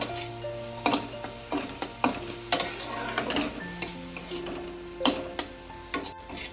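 Grated coconut stir-fried in a pan for a palm-fruit dudh puli filling, with repeated spatula scrapes and stirs over a soft sizzle at a steady, uneven rhythm, close and moderately loud, without talk.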